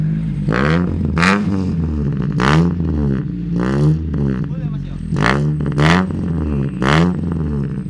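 A modified Toyota Great Corolla engine is revved repeatedly up close, giving loud rhythmic surges roughly every second with a rough exhaust rumble between them.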